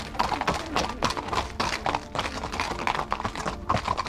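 Horse hooves clip-clop steadily over ground during a horseback ride through the Drakenstein Valley winelands, a quick, even rhythm of hoofbeats heard up close and alone for about four seconds.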